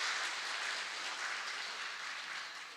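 A church congregation applauds for the children's and kindergarten departments during a Sunday worship service, with steady, dense clapping that fills the room throughout and fades slightly toward the end.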